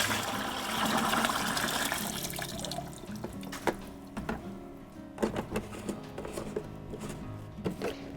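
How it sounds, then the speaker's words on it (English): Pest treatment mixture poured into a bucket, a soft liquid splash and trickle at first, fading into scattered small drips, clicks and knocks. "And let's pour the rest of the contents into the bucket."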